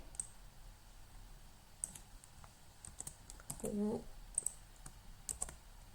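Scattered taps and clicks on a computer keyboard come while a heading is typed, sparse and uneven against a quiet room, with a brief voice in the middle.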